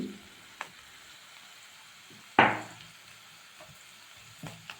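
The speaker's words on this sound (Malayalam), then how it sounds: "ഞാൻ നന്നായി ഫ്രൈ എടുക്കുകയാണ്." Sliced onions frying in a pan for a mushroom fry, a soft steady sizzle with a few light clinks and one sharper scrape or stir midway, fairly quiet and close.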